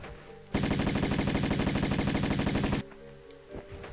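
Rapid automatic gunfire rattles out in one loud, sustained burst of a bit over two seconds in Tomb Raider I, then cuts off abruptly to quieter game ambience.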